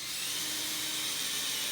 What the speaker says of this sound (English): I'm going to try to run it without pre-drilling a hole